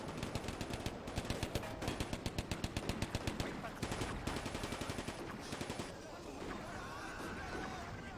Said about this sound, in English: Whoa, someone's firing. Is that gun firing again?